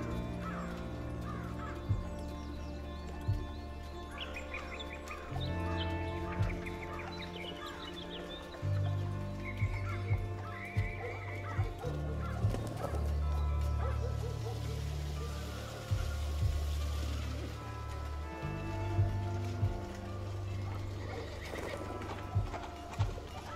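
City ambience from the Liberte video game, set in revolutionary France: repeated horse hooves clip-clopping, occasional whinnies and crow caws over a continuous layered town background, with sharp hoof knocks recurring throughout.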